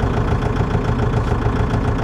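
A Kubota MU 5502 tractor fitted with an AC cabin idles steadily, a loud, close, even diesel rumble with no speech over it.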